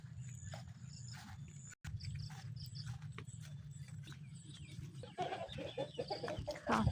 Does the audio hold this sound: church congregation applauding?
no